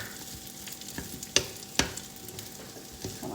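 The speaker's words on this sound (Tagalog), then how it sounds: "Gawa tayo ng ating fried rice, guys" Leftover rice frying in a pan to make fried rice, a soft steady sizzle broken by a few sharp scrapes and clinks of stirring.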